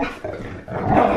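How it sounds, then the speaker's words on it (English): Dogs playing rough indoors, giving growls and barks that run as a loud, continuous snarling tussle close to the microphone. "Crazy dogs."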